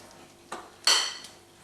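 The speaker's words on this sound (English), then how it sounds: "I'm going to add the wet ingredients to the dry ones. And I'm going to mix everything together" A spoon clinks and scrapes against a bowl while wet ingredients are stirred into dry oats for vegan porridge, giving two brief, close knocks, the second louder, followed by a fading scrape.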